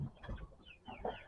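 Chickens in a barn give a few soft clucks and short, high chirping calls, close by and fairly quiet, with no talking over them.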